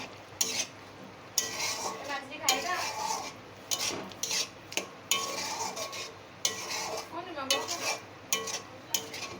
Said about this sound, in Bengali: একটু শাহি গরম মশলা দিয়ে দিলাম, দিয়ে এটা ভালো করে মিশিয়ে দেব